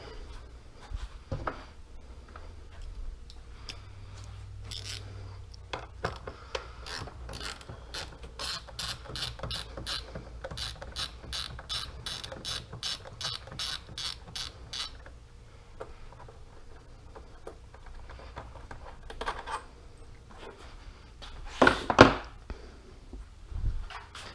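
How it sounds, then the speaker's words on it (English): Ratchet wrench fitted with an 8mm socket unbolting the factory airbox from the core support of a Hellcat, in long runs of rapid, evenly spaced clicks, with a few louder clacks near the end and no talking. "using an 8mm socket, unbolt the factory earbox from the core support."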